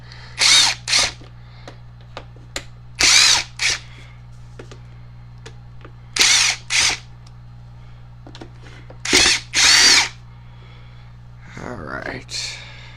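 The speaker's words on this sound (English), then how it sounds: "we're just gonna pop all these screws out of here" A power drill whirs in short bursts, pulling screws out of a Harbor Freight chainsaw during a teardown, with pauses between the runs, close and fairly loud, over a low steady hum.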